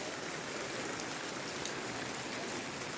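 Rain falling steadily outdoors during a rainy spell after flooding, a soft even hiss with faint scattered drip patters, quiet and continuous.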